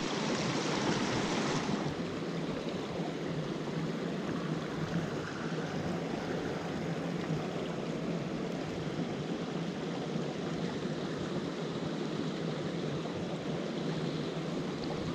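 A mountain brook rushes steadily past waterfalls, a close, continuous wash of flowing water that holds an even level throughout with no voices.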